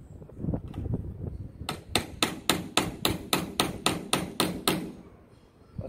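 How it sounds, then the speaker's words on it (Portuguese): Sharp metallic taps of a hammer on a punch piercing a fastener behind the driver-side dashboard of a Fiat Strada Working, about a dozen evenly spaced close strikes in a steady rhythm. "As batidinhas com poção."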